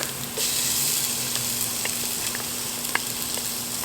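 Ginger and garlic sizzle steadily in a hot pan, a close, continuous frying hiss with small crackles and pops scattered throughout.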